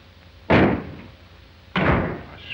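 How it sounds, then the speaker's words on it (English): A wooden door slams shut twice in an old 1942 Western film, two loud, sharp thuds about a second apart, each with a short ringing tail. "Close that door."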